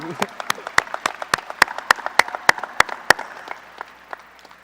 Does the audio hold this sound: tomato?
no